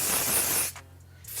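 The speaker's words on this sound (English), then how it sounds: "And then I'm going to just spray" A steady hiss of an aerosol hair spray along a hairline, close and loud, stops briefly and then starts again at the end.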